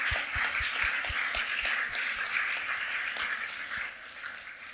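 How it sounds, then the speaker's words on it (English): Audience applause for panelists at a design event, a steady wash of many hands clapping at moderate distance, with a few heavier nearby claps at the start, gradually fading. "can we give a round of applause to our amazing panelists?"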